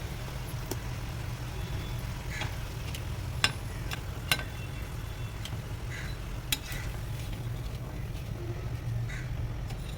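Thenkuzhal dough frying in hot oil, a steady low bubbling sizzle running the whole time at moderate level, with a few sharp clicks and taps from utensils scattered through it.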